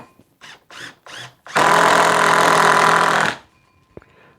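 A DeWalt cordless screwdriver driving a screw: three short motor whirs as it starts, then a steady, loud buzzing run of about two seconds that stops abruptly, close up with no talk.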